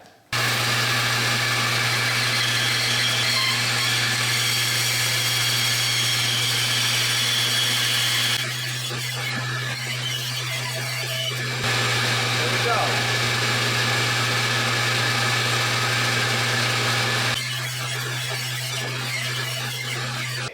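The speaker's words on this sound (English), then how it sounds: "Here's some circles I can try to cut on the bandsaw." A bandsaw runs with a steady droning hum while cutting circular blanks from a cedar log, the blade tone shifting slightly as it moves through the wood in a few distinct passes over about twenty seconds.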